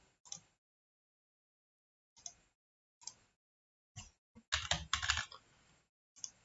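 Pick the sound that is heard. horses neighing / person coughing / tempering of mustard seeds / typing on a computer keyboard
typing on a computer keyboard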